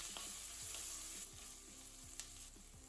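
Sliced onions and mint leaves sizzle steadily in a hot pan, with soft stirring scrapes at a regular pace and no talking.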